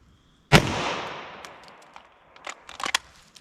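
A single sharp gunshot from a .40 S&W pistol with a 5-inch barrel firing Federal Syntech Defense ammunition, loud and close, with a long echoing decay and a few faint clicks and handling noises afterward.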